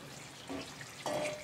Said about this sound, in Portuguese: agora já vou colocar água aqui